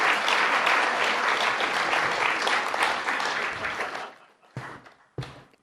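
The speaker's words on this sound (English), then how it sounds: "It's okay, you can clap after poems." Audience applause at a poetry reading, a dense burst of clapping that slowly thins over about four seconds and is followed by two isolated late claps.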